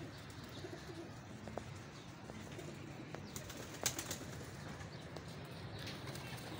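Soft pigeon coos and rustling flutters sound close by amid quiet background noise, with a few sharp taps and clicks scattered through.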